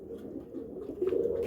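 Pigeons coo softly in a low, repeating murmur, a steady close warble that swells slightly near the end, with no voices.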